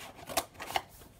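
A knife or box cutter slicing open a shipping package, giving two short sharp scraping cuts a moment apart, close and fairly quiet, with no talking.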